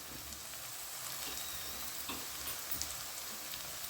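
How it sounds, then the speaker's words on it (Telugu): Peas and carrots fry in oil in a pan for egg biryani, giving a steady close sizzle with occasional stirring scrapes. "బఠానీ గింజలు క్యారెటు ఇవి కూడా వేసుకొని చక్కగా వేయించుకోవాలి"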